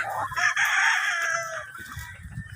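A young fighting rooster, a stag on a gamecock farm, crows once, loud and close, in a long drawn-out call that fades toward the end.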